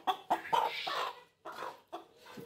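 A roughly 100-day-old chicken weighing about two kilograms clucks up close in a series of sharp, uneven bursts with short pauses between them.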